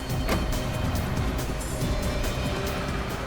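A car being driven fast, its engine and road noise roaring steadily and loudly throughout, close and continuous with no break.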